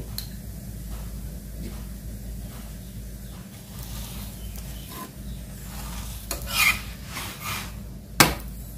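An aloo paneer paratha fries on a pan with oil, giving a low, steady sizzle. Occasional spatula scrapes and a sharp knock near the end sound over it.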